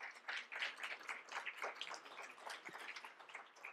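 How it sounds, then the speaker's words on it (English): Quiet, dense audience applause at a poetry jam performance, a steady patter of many hands clapping throughout. "Give yourselves a round of applause."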